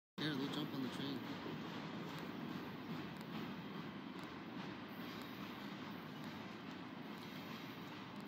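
Freight train passing at night near the US border, a steady low rumble of railcars rolling by throughout, with faint voices underneath.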